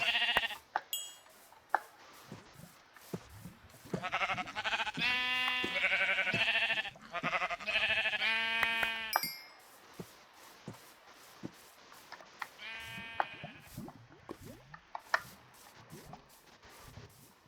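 Sheep bleat in the Minecraft video game, a cluster of wavering bleats followed by a fainter one later, over soft ticking game sounds.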